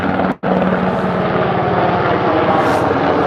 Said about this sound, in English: So there's a military helicopter.